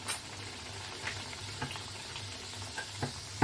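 A pea-stuffed kachuri fries in hot oil, one side cooking at a time, giving a soft, even, quiet sizzle with occasional faint pops and bubbles and no talking.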